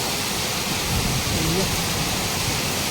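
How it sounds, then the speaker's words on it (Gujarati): Heavy morning rain pours down outdoors in a steady, dense, loud wash of noise that holds evenly throughout, with faint voices beneath. "ઓ હે, આમ જો કેવો વરસાદ આવ્યો, આમ જો અત્યારે"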